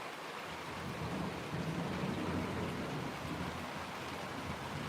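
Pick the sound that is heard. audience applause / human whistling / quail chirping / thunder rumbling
thunder rumbling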